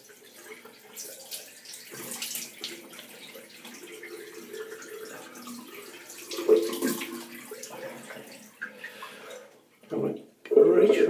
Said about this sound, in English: Now I'm going to use some cold water.